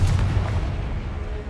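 Confringo blasting spell cast in the Hogwarts Legacy video game, a dense booming fiery burst with a rumbling low-end body that fills the moment and slowly tapers off, with no voices over it.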